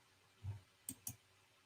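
Sharp computer mouse or keyboard clicks while streaming: a soft low thump followed by two quick, close clicks in an otherwise quiet room.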